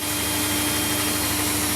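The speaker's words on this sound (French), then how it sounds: "Le fameux gaz passe dans ce simple moteur qui va le transformer en électricité." Gas engine driving an electricity generator producing 50 kW, a steady dense roar with a constant hum, loud and close, unbroken throughout.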